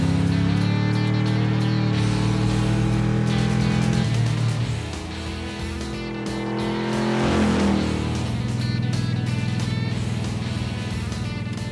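A restored Chevrolet Chevelle accelerates hard with a loud, deep engine roar that climbs in pitch, dips as it shifts, then rises again, close up and steady throughout.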